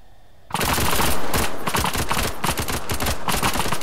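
Sudden burst of rapid video game gunfire erupts after a quiet moment, dense automatic shots rattling loudly and continuously for several seconds.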